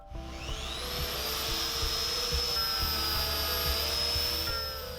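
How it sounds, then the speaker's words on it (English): A power mini carver grinds into a wood stump with a shop vac running alongside, giving a steady, loud whine with rising tonal pitch and constant broadband roar through the whole stretch. "I've also got my shop vac that connects to the mini carver to collect some of the dust."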